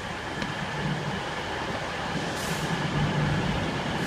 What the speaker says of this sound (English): Oh, it's about to depart.